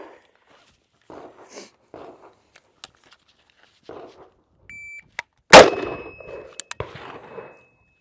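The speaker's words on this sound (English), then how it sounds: "You're going to have that ringing sound from the flash hider." After scattered quiet shuffling and a short beep, a single loud gunshot cracks from a Turkish MKE AP53 (HK53 clone) rifle, leaving a high, thin metallic ring from its four-prong flash hider that hangs on afterward.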